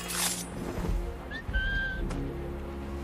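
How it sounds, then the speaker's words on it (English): A player character in Assassin's Creed Rogue whistles a short, clear rising two-part call midway through, over steady in-game ambience and low background rumble. "I love the whistle mechanic."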